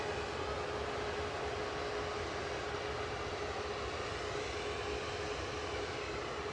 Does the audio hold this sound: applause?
no